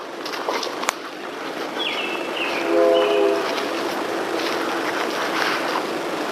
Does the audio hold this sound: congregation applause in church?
no